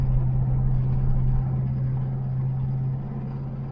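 A 1982 Chevrolet El Camino cruises on a test drive, its engine giving a steady low rumble from inside the cab, easing slightly softer near the end with no talking.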